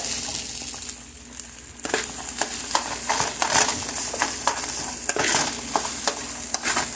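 A spatula scrapes and clatters rhythmically through fried rice in a hot pan, steady sizzling underneath the repeated stirring strokes.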